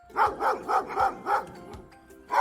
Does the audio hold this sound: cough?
no